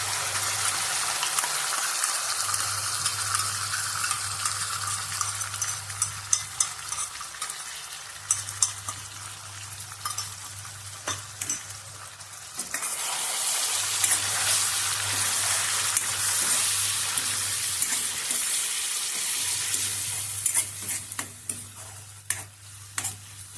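A paste of onion, garlic, tomato and coriander fries and sizzles steadily while a spoon stirs it in a pan, close and continuous with scraping strokes, and a low hum pulses on and off beneath.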